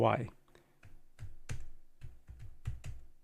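Someone types a command into a Windows terminal to set up a Python virtual environment for ComfyUI, a quick run of about a dozen crisp key clicks in small bursts, close and clear after a brief spoken word.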